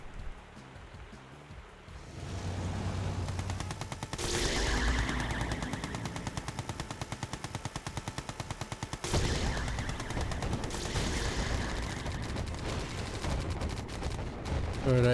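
Gatling tanks fire in a real-time strategy game match, a dense rapid rattle of machine-gun fire with heavy explosive bursts that runs almost continuously and loud throughout.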